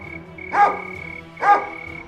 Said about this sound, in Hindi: घर के बाहर कुत्तों की भौंकने और जंगल की तरफ से आती भेड़िए की दहाड़ रात भर